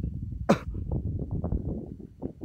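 A single sharp cough bursts out near the start, followed by low continuous murmuring in the background.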